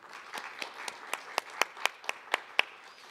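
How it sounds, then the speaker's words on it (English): Evenly spaced clapping at a symposium, about a dozen distinct claps in a steady rhythm that grow louder toward the end, fairly close and with no talk over them. "please give them a round of applause"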